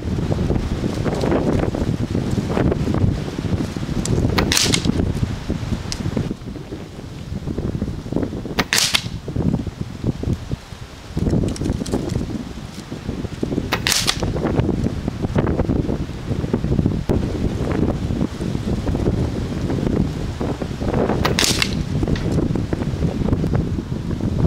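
Gamo Whisper break-barrel airgun fired from a Caldwell Lead Sled 3 rest on a shooting bench, several sharp suppressed cracks spaced seconds apart over steady outdoor wind noise.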